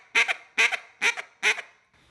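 A duck call blown to imitate a bouncing hen quack, four evenly spaced nasal quacks, each ending in a quick hiccup, loud and close with no talking.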